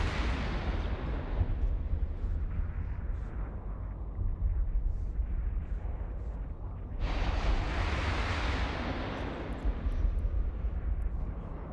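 Spaceship weapons firing in EVE Online, a sustained roar of heavy booming shots with a sharp louder burst partway through, dense and continuous without speech.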